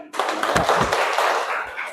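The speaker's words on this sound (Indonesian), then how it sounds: "Kita kasih tepuk tangan buat Farid." A short burst of brisk clapping from a small group of students in a university class, dense and close, lasting a couple of seconds.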